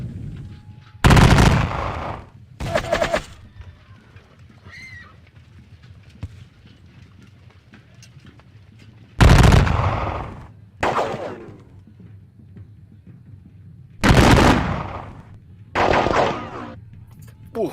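Booming artillery fire from the Napoleonic battle game Campaign: Waterloo, at Quatre Bras: loud, widely spaced cannon blasts, each rolling off into a rumbling decay, with quiet stretches in between.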